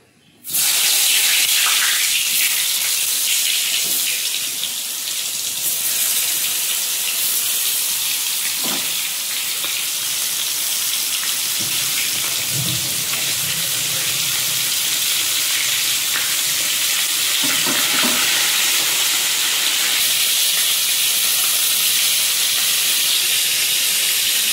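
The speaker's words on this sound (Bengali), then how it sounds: "আমি পটলগুলো আস্তে আস্তে দিয়ে দেবো।" Salted pointed gourd (potol) pieces fry in hot oil for doi potol. A loud, steady hiss and sizzle starts abruptly and runs on for over twenty seconds, with a few faint clinks.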